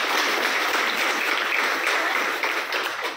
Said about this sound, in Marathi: तर त्यासाठी सायलीसाठी आपण जोरदार टाळ्या होतो.